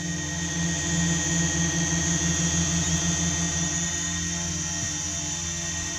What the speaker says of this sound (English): Now you can see this drone, you know, how perfectly stable this thing is.